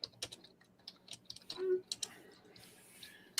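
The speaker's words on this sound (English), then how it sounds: "Now you got the old man typing his Commodore 64 trying to get the facts." Someone types on an old Commodore 64 computer keyboard, sparse, irregular clicks and taps at close range in a quiet room, with a brief low murmur partway through.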